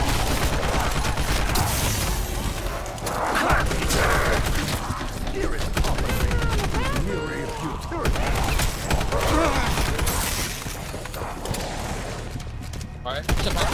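Rapid gunfire and heavy bursts from Call of Duty Black Ops 4 Zombies, loud and nearly continuous, with thuds and clatter layered throughout and occasional voices mixed in.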